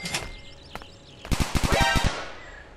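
Gunfire in the mobile game Sasti GTA 5: a single early shot, then a rapid burst of about eight loud automatic-weapon shots with echoing tails, no talk over it.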